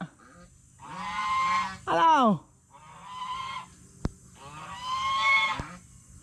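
Several loud goose honks close by, harsh nasal calls in separate bursts with short gaps between them.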